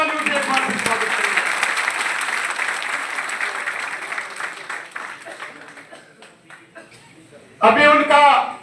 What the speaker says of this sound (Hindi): उनका जोरदार तालियों से एक बार स्वागत करें